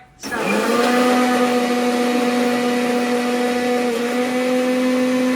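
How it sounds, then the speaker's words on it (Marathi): A kitchen mixer grinder starts with a quick whirr and then runs at a steady, loud, high-pitched whine for several seconds before cutting off abruptly. "मिक्सर लावता येतो"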